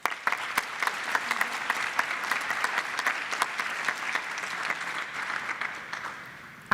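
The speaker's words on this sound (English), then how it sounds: "Yes, keep clapping, keep clapping." An audience at an award ceremony claps steadily for several seconds, a dense even patter of many hands that fades slightly toward the end.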